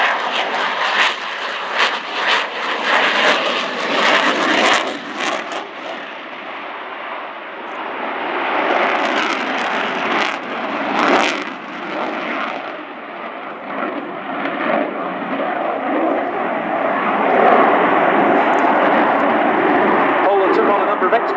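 A Polish MiG-29 Fulcrum jet in a display flight at an airshow thunders loudly throughout, its engine roar surging and fading with sharp bursts, while a commentator talks over the noise.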